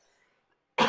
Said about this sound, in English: I just have to cough for a second here.